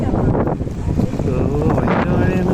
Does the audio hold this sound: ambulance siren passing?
no